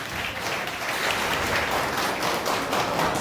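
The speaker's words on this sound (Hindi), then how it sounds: "जोरदार तालियां" Loud applause from the audience at a short-film screening at IIMT College, Kota, Saharanpur: thick, continuous clapping that stays strong and even throughout, with no talk over it.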